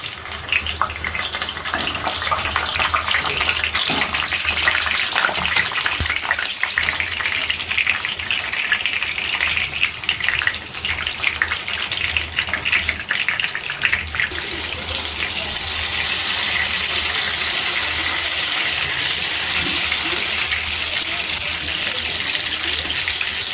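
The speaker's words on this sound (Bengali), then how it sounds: "তেলটা গরম হয়ে গেছে, পটলগুলো ভেজে নেব।" Pieces of pointed gourd (potol) fry in hot oil in a pan, making a loud, steady, hissing sizzle that runs without a break for the whole stretch.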